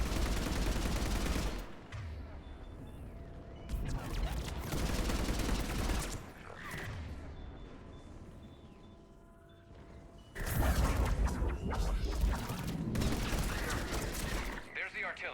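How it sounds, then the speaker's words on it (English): Artillery fire in Mass Effect 3's Priority Earth battle, heavy booming barrages and explosive rumble rolling through the scene, loud at the start and end with a quieter, thinner stretch in the middle. "There's the artillery."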